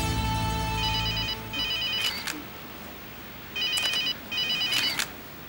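Telephone ringing in a home, with several electronic double-trill bursts separated by pauses, close and fairly loud over a low background hum at the start.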